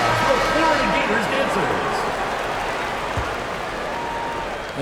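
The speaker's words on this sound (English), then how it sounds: "Let's give them a round of applause for Florida Gators" Crowd applause and cheering in a basketball arena during a timeout in a professional league semifinal game, a steady wash of noise with an announcer's voice over it.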